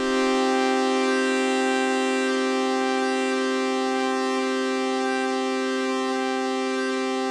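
Arturia MicroFreak synthesizer holds two notes at once, a bright, buzzy, sustained tone rich in overtones that drones steadily for several seconds, with a faint pulsing flutter underneath as the notes are shaped by polyphonic aftertouch.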